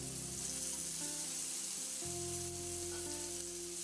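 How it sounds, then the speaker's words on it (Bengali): Gourd pieces coated in salt and turmeric fry in hot mustard oil, giving a steady close sizzle with a low tonal hum underneath throughout. "লবণ আর হলুদ মাখানো কাঁকরোলটা তেলের মধ্যে দিয়ে খুব ভালো করে কাঁকরোলটাকে ভেজে"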